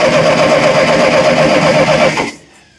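A Massey Ferguson TO30 tractor engine cranks with a loud, rapid, steady churning for about two seconds, then cuts off abruptly into near silence without catching.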